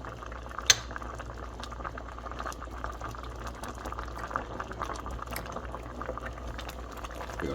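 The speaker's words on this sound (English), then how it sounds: "It's boiling." Rutabagas boil in a pot with a soft, continuous bubbling and simmering. One sharp clink sounds near the start, and there is no talk.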